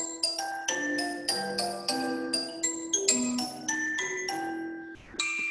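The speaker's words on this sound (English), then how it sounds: "And that sound is created with four percussion players, the glockenspiel, the xylophone, the marimba, and the vibe." A percussion intro played by four players on glockenspiel, xylophone, marimba and vibraphone: a sequence of clear struck bar notes, each ringing briefly and decaying, in a bright melodic pattern with no voices.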